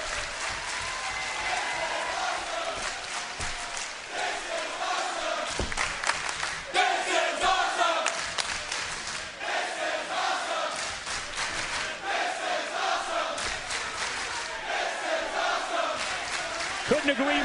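Standing-room-only wrestling crowd at Destination X in the Impact Zone, Orlando, Florida, roaring and applauding steadily throughout, a dense wash of cheers and shouts with surging peaks.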